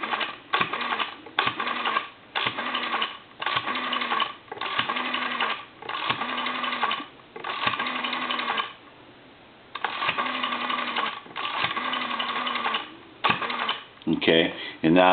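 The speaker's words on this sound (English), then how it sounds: "And now we're going to go ahead and dial out here" A PTT Holland rotary telephone dial is turned and released repeatedly, each pull followed by a whirring return and a rapid train of clicking pulses, close and fairly loud over a low line hum.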